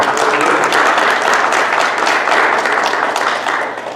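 A church congregation applauds, a dense, loud burst of clapping from many hands that holds steady before tapering off at the end.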